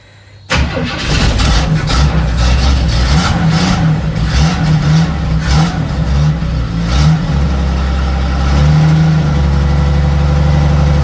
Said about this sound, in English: The exhaust is a little bit loose, it's a little bit loud.